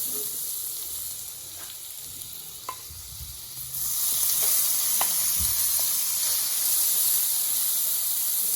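Crab meat frying in a pan with garlic and butter, a steady close sizzle that grows louder partway through, with a few light stirring clicks.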